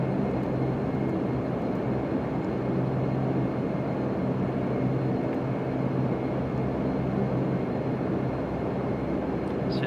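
Majestic Q400 DH8D turboprop airliner engines in a flight simulator, a steady, even drone with a constant low hum and broad whooshing wash, unchanging throughout.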